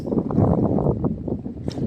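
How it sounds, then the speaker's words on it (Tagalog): Strong wind buffets and roars steadily with gusty rumbling inside a boat, loud and close, like wind pressing against the microphone. "Kahit dito sa loob malakas ang hangin"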